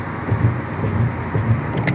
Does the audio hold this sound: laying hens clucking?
no